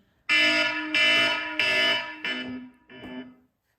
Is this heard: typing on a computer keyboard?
no